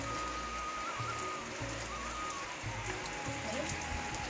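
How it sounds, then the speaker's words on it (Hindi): Heavy monsoon rain pours down in a steady, dense hiss that stays loud and unbroken throughout, with low thumping patter underneath. "कितनी मूसलाधार बारिश आ चुकी है ऊपर से"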